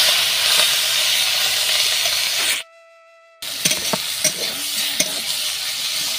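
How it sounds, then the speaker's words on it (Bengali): Flat beans (shim) fry in hot oil with green chilli, making a loud, continuous sizzle with stirring clatter. The sound cuts out abruptly for under a second midway, leaving a thin tone, then the sizzle resumes with sharp spatula taps. "এবার দিয়ে দিলাম সিমটাকে ভাজা করে নেব"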